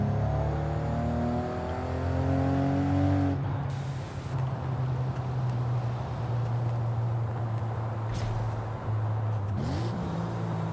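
A car engine in Forza Horizon 5 revs up with a smooth, deep tone, climbs in pitch, then settles into a steady low drone with road rumble as the car cruises.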